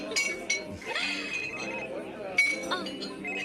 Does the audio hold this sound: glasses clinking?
yes